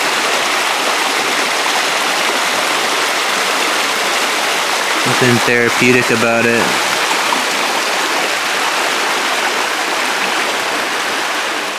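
Creek water at Lake Padden flows in a steady, broad wash throughout, while someone speaks briefly in the middle over the running stream.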